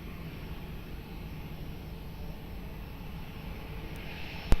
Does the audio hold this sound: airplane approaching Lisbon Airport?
yes